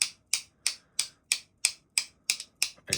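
Sharp clicks from the D-pad of an ACEdc Zirc gamer controller, about nine crisp, evenly spaced clicks over three seconds, close up and fairly quiet, with no talking.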